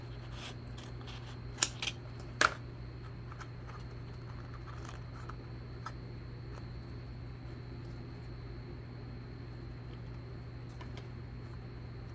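Scissors cut craft material for a gnome's boot, giving a couple of sharp, brief snips close by against a steady low room hum.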